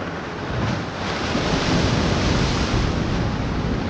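Strong wind and choppy waves on a river during a Kalbaishakhi storm, a loud, steady broadband roar with wind buffeting the microphone and no voices.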